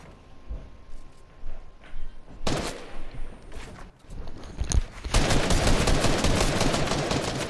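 Gunfire in the Fortnite video game, with scattered single shots and short bursts that build into a dense, rapid volley of loud, close shooting over the last few seconds.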